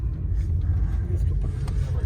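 A car's engine and road rumble drone steadily from inside the moving vehicle, a low continuous hum with people talking over it.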